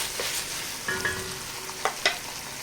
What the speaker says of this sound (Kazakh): 2-3 минуттай қуырып аламыз.